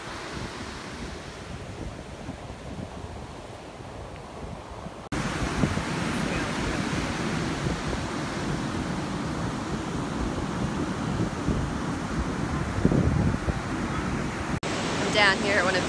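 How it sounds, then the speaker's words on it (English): Ocean surf rolls and breaks at a beach in Pavones with a long left-hand break, a steady broad roar that swells louder partway through, mixed with wind buffeting the microphone. "I'm down here at one of the local beaches in Pavones where they have the left break."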